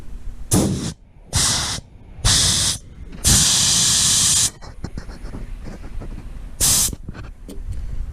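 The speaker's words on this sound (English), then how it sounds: "push it in on the Schrader valve, okay, to bring the pressure down" Sharp bursts of air hissing out of a car tire as the Schrader valve core is pressed to lower the pressure, four short loud releases and one longer blast with brief gaps, then a final short burst.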